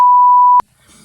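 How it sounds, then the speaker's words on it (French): A loud steady censor beep at a single pitch sounds for about half a second, then cuts off abruptly into near silence. "je vais biper le nom parce que je n'ai pas envie de savoir ça"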